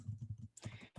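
Typing on a computer keyboard produces quiet, quick clicking keystrokes in an uneven rhythm, faint and close with no one talking.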